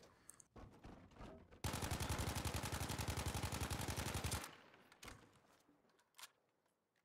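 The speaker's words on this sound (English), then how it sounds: "Here is my very first attempt at controlling full auto fire using my sensitivity settings." A steady, rapid full-auto burst from a gun in Battlefield V, roughly three seconds of evenly spaced loud shots, with quieter game sounds and a few isolated clicks before and after.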